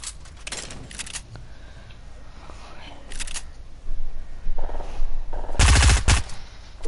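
FAMAS rifle gunfire in a video game: rapid bursts of automatic shots, faint early on, then loud, dense volleys toward the end amid game noise.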